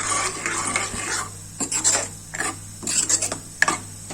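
A spoon stirs and scrapes through pea curry (usal) in a metal pot, several uneven scraping strokes with brief pauses and a small clink, close and clear over a low hum.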